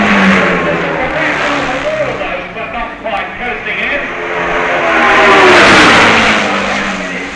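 Scheidegger's sidecar racing machine at the 1965 Isle of Man TT roars past the grandstand, its engine note swelling as it approaches, with a commentator talking over it.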